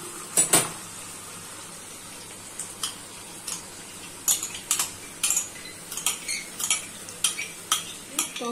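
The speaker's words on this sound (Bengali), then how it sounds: "টক দই দিলাম।" Sour yogurt being stirred into fried spices in a pan, heard as a series of close, sharp scraping and clinking utensil strokes against the pan, sparse at first and then coming in quicker irregular bursts over a faint background sizzle.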